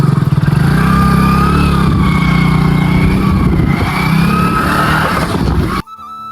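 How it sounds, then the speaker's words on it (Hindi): Vehicle engine running steadily right after a start on a dead battery, loud and close with a revving, buzzy drone and rising pitch, cutting off abruptly near the end. "गाड़ी स्टार्ट हो गई है"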